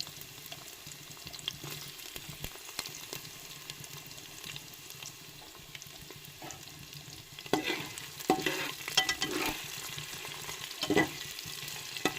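Bay leaf and panch phoron spices crackle and sizzle in hot oil, with repeated scraping stirs that grow busier toward the end.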